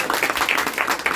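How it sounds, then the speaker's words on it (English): Brief burst of applause from a group, steady clapping throughout with no talking. "Please clap more loudly"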